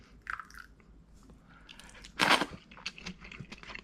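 Cold somen noodles are picked up, dipped in sauce and eaten close up, with soft slurping and chewing, a sharp burst of noodle slurp in the middle, then quieter mouth sounds.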